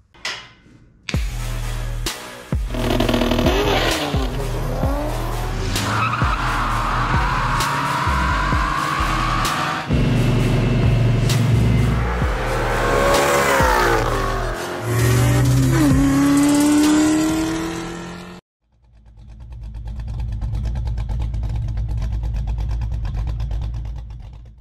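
A twin-turbo 1997 Mustang Cobra engine revs hard in repeated rising and falling bursts, loud and close. It cuts out abruptly, then settles into a steadier idle-like drone.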